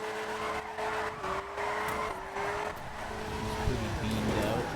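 A car drifts in a video game with engine tones stepping through gears and a tire squeal, while people talk over the game sound.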